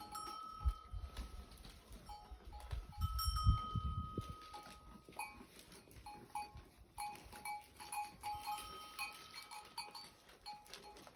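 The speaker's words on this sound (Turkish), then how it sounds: "keçiler çalılarla beslenmekte" Pregnant goats rustle and shuffle among bushes at a distance while browsing near Bigadiç, Balıkesir, Turkey, with occasional soft bleats, light bell-like clinks and scattered low thumps over a quiet outdoor background.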